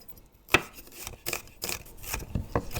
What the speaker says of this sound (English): we are chopping up our onion and dicing our garlic as we wait